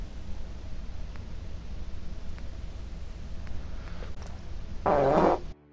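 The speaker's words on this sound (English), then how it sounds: "Sorry about that, I just farted." A fart in a Fallout 4 game session, a short loud burst near the end after several seconds of quiet background hiss, followed by a sudden cutoff.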